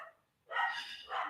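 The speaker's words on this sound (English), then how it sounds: "I'm sorry if you hear my dog in the background." A loud-voiced puppy barks indoors, one short yelp followed by a sustained, harmonic burst of barking and a second bark close behind, fairly near and with no talk over it.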